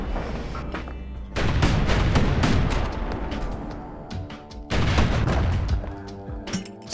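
Missile turrets fire in the video game Bastion, sending out loud booming blasts and rumbling explosions in two heavy bursts, with scattered impacts and gameplay noise between them.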